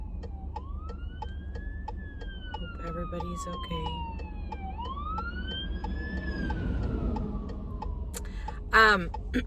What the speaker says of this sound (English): here comes a big fire truck.